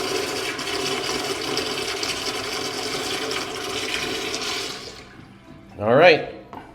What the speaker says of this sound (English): Let's see how this thing flushes now.